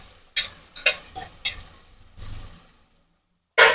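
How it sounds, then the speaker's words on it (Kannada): Ghee rice ingredients are stirred and fried in a pan, with several sharp scraping strokes over a light sizzle, a pause, then a final loud scrape. "ಇದು ಕೂಡ ಚೆನ್ನಾಗಿ ಫ್ರೈ ಆಗಬೇಕು"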